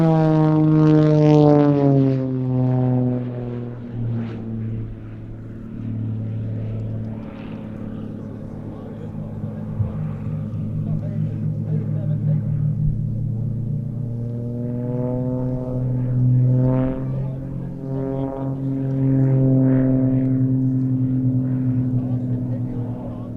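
Aerobatic aircraft at the Little Gransden Airshow 2021 make a sustained, droning engine tone that rises and falls in pitch as they roll and manoeuvre overhead.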